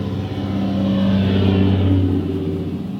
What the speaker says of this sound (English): That truck sounded like a plane, it was so loud.